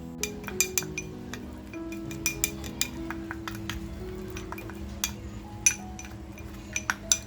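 A spoon mixing masala with oil and salt in a bowl, giving repeated close clinks and scrapes in an uneven rhythm against a low background hum.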